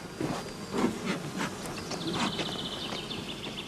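Honeybees of a new colony with a young queen buzz softly and continuously at close range, a faint, steady drone with individual bees flitting nearby.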